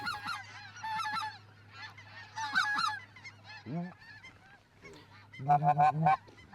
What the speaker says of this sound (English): these birds, thousands of them right over my head